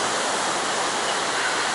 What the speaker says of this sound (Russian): когда идет сильный дождь, на море волны